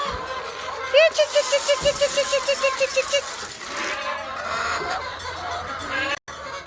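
On a farm, young hens not yet laying cluck in a rapid, steady series of short calls nearby, over a noisy outdoor background with other birds faintly audible.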